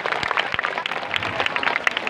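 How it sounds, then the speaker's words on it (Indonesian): An audience at a school language-month event at a junior high in Tarumajaya claps in a moderate, fairly distant patter of many hands, with some sharper individual claps standing out. "Boleh tepuk tangan."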